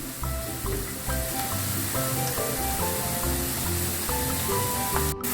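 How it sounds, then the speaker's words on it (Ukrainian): Carrot and onion fry together in a pan for pea soup, giving a steady, close sizzle that crackles evenly throughout with no break and no voices. "Морка на одній стороні. сама собі жариться, а цибулька ось тут жариться."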